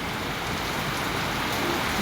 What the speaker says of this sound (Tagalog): bigla lang bumuhos yung ulan